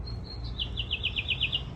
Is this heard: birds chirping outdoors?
yes